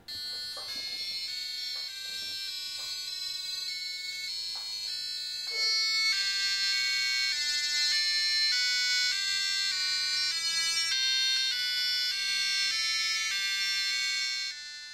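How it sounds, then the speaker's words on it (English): Three Arduino-driven piezo buzzers play the Happy Birthday melody in three-part polyphony, covering rhythm, lead and bass. The bright, piercing electronic beeps run continuously and steadily throughout, with no voices. "All three combined form the Happy Birthday melody with three-way polyphony."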